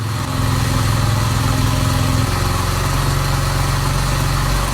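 Motorcycle engine revving at high RPM, a loud steady drone with a dense low rumble and a pitch shift partway through, running close and alone.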